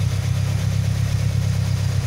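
A Toyota car engine idles steadily and close by, a low even rumble with a regular pulsing throb, running alone with no talk over it.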